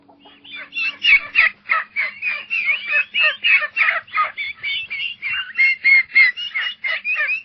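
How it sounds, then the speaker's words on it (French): A farmyard rooster calls in a quick, regular series of loud, close bursts that run without a break for several seconds, with no voices. "le coq, qui, chaque matin, réveille la ferme en annonçant le lever du soleil"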